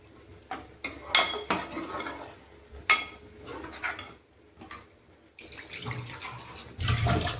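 Water splashes and pours into a pot in bursts, mixed with clinks of metal utensils and rinsing, close up, with no talking.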